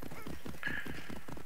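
Rhythmic clip-clop of horse hooves on a road while riding in the video game Assassin's Creed Odyssey, steady and close, with a short whinny partway through.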